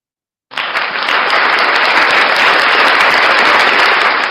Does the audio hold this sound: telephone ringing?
no